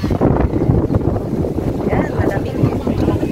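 Strong, steady, cold wind near the sea buffets the microphone with a low rumbling roar, filling the whole clip with gusty noise.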